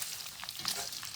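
Pork fat cracklins fry in a pan with a soft, continuous sizzle dotted with faint pops and crackles, heard quietly and close for a brief moment.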